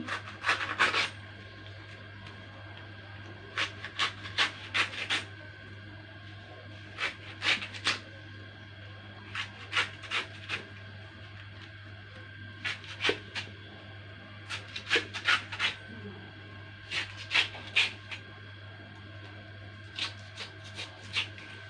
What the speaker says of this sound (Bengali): আগে এইভাবে ঘষে ঘষে সুন্দর করে